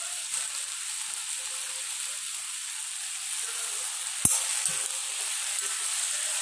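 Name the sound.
sliced eggplant frying in pan with tomatoes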